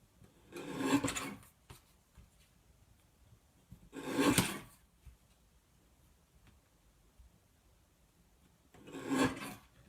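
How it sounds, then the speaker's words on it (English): A small paper trimmer slides across cardstock trimming a stamped sentiment, three short scraping rasps spaced a few seconds apart, close but quiet with near silence between strokes. "I'm just going to use my little trimmer and I'm going to trim this sentiment down just a little bit"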